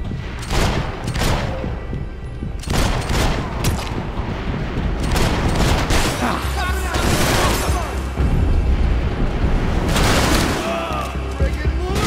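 Rapid gunfire and heavy bursts from a Max Payne 3 shootout ring out loud and dense, with repeated volleys and booms across the whole stretch, and voices shouting over the shooting.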